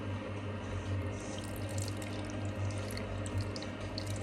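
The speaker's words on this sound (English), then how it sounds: "I start to put water in it really slow." Water trickling slowly from a tap or jug into a bowl of homemade pizza dough, a steady soft running splash close by with a low hum beneath and no talking.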